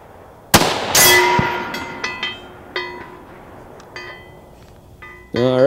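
A rifle fired at a 300-yard target gives a sharp, loud crack followed by a ringing metallic clang and several lighter pings and clinks, then another burst of noise at the end.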